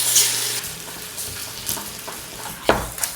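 Onions and garlic fry softly in a soup pot, a low, steady sizzle with a few scraping stirs and a sharper clink near the end.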